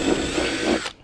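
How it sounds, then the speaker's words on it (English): A power drill bores through a plastic tailgate storage panel into the metal beneath on a Honda Element, a steady loud whine that drops off sharply near the end as the bit breaks through. "we're just going to go around and drill out all of these holes"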